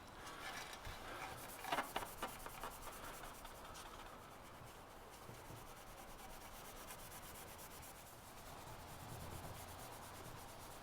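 Hand polishing of metal on a restored Coleman Easi-lite barbecue: soft, continuous rubbing and scrubbing strokes, faint and close, with a slightly busier burst of rubbing near the start.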